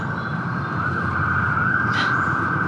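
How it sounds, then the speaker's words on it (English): A siren wails steadily at moderate loudness throughout, a continuous tone near and sustained, heard alone with no talk over it. "a siren."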